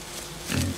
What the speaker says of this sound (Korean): 이때 야생돼지?